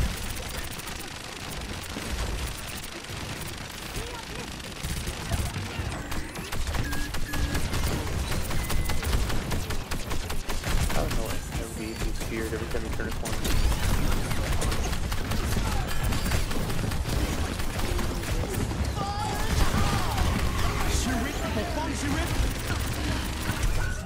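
Bastion gunfire in an Overwatch 2 match: a continuous, dense rattle of rapid shots mixed with mechanical clanks and booms, under busy game noise and overlapping voices.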